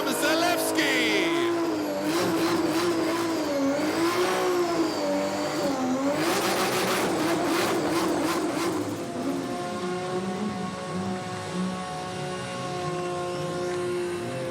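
Drift cars in a top 16 battle at a DMEC 2018 round in Riga rev hard and grind off the last of their tires, a continuous loud roar with rising and falling engine pitch and squealing rubber.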